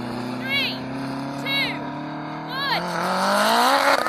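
A 1,000hp AWD Honda and a Porsche 918 Spyder idle and rev before a drag race, a steady engine drone with sharp rising revs and a surge toward the end, under nearby talk.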